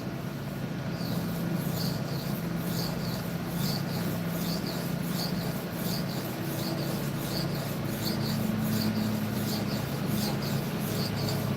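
A steel knife is drawn across a sharpening stone in steady, repeated raspy strokes with a regular rhythm, close and continuous over a low background hum.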